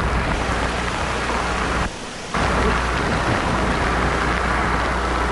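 Heavy typhoon rain pours down steadily in Vigan, Ilocos Sur, a dense continuous roar broken by a brief half-second dip before resuming at full strength; no voices.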